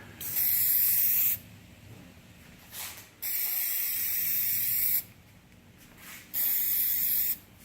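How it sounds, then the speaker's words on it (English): Spray paint is applied to a custom Seiko SNZG13 watch case back laid on paper, in three loud close bursts of hiss separated by short pauses, with a faint brief puff between them. "hope it doesn't stick to this back piece of paper that I'm spraying on top of"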